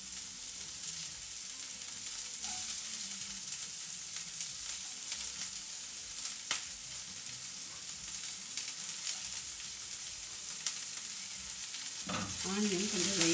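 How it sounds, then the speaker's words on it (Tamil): Chopped onion sizzling and frying in a pan for capsicum rice, a steady close hiss with occasional stirring clinks and a louder burst of sizzle near the end. "ஆனியன் கொஞ்சம் லைட்டாக குக் ஆனால் போதும்."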